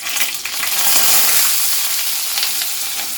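Loud, crackling sizzle of chopped food frying in hot coconut oil, steady and close, with faint scraping bursts.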